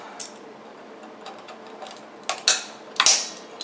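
Floyd Rose tremolo springs are pulled out with needle-nose vise grips, giving faint metallic ticks and scrapes, then a couple of louder sharp clanks and rattles close by.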